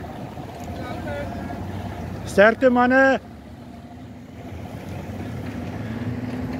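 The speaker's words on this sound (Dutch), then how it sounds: "Hier is die 22ste boot wat nou uitgaan." A fishing boat heads out from the harbour at Yzerfontein on a snoek run, its steady low engine drone continuing throughout, with someone briefly shouting a farewell.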